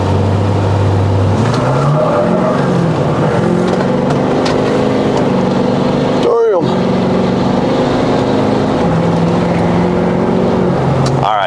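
A Ford 6.7L Powerstroke diesel truck fitted with a cold air intake runs a two-wheel-drive 0 to 60 acceleration test. The engine drones loudly and steadily, climbing in pitch through several gear shifts, with a brief break partway through.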